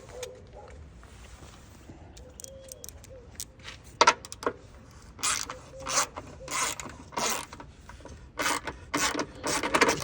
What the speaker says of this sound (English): So get out our ratchet.